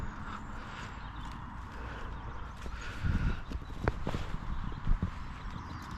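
A horse's hooves clip-clop irregularly as it trots nearby, a few soft thuds and knocks over low outdoor rumble and wind.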